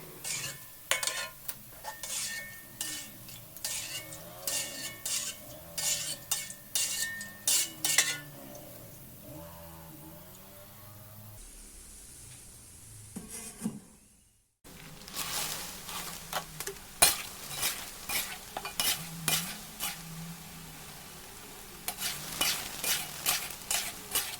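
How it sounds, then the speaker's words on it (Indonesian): Peanuts coated in egg batter frying in oil: repeated scraping and stirring clatters over a steady background sizzle, with a brief quieter pause midway before the rhythmic stirring resumes. "setelah ini kita akan kembali menggoreng untuk tahap yang kedua"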